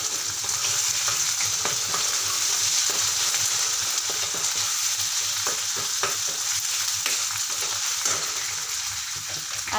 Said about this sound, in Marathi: आता मी खोबरं व लसणाची पेस्ट घालत आहे।